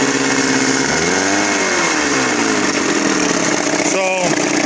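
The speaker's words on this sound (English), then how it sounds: "this motor's running, sitting here running, turning like a top." A near outboard motor idles steadily with a rough, even drone while someone talks over it.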